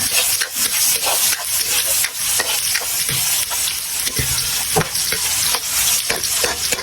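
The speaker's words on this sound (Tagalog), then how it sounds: "Lagyan na natin yung bawang. Sibuyas." Garlic and onion sauté in a hot pan with a loud, steady sizzle broken by repeated stirring scrapes, close up and without any voices.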